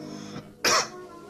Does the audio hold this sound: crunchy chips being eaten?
no